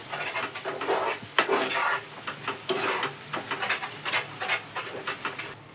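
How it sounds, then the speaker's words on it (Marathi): Peanut barfi mixture with milk powder stirred continuously in a pan over medium heat, a steady hissing sizzle with a quick rhythm of scraping strokes across the pan. "आपल्याला असंच हलवीत राहायचंय गॅस थोडासा मध्यम ठेवायचा आहे"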